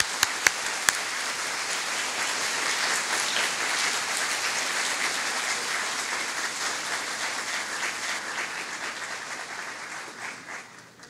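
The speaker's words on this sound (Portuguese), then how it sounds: "A quem recebemos, então, com nossos aplausos." An audience at a lecture applauds steadily and loudly for several seconds, the clapping tapering off toward the end.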